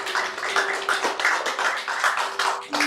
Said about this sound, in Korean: 계속해서 박수를 쳐주십시오